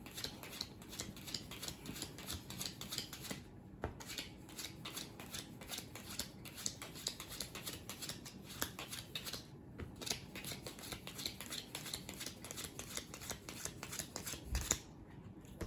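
Playing cards being pulled from a deck and dealt for a five-player tabletop card game: steady, rapid papery flicks and slides, close and crisp, with brief pauses and no talking.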